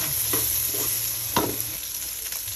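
Chopped ginger is stirred and fried in a pan for laing, a close, steady sizzle broken by a few scraping stirs.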